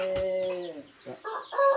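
Chickens near a house, a rooster's crow followed by several close clucks, fairly loud with no talk over them.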